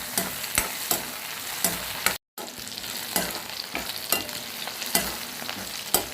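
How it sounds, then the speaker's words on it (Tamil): Carrots and other ingredients sautéing in oil for carrot chutney, a constant close sizzle broken by regular scraping stirs of the spoon and one brief gap. "அந்தளவுக்கு நல்லா வதங்கணும்"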